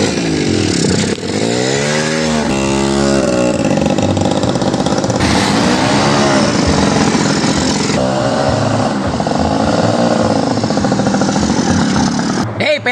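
A motorcycle taxi engine runs loud and close, its pitch rising and falling as it revs and accelerates, continuous under excited shouting voices.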